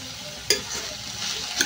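Sliced ridge gourd frying with onions in a pan for a curry, giving a steady close sizzle with stirring scrapes, including two sharper clatters near the start and end; no one speaks.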